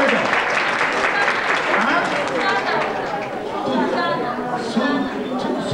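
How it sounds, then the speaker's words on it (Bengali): Children clap together at a Pohela Baishakh celebration in a Bengali school classroom in New York. The loud, dense clapping is mixed with excited chatter and voices throughout. "পুরো হাততালি দাও।"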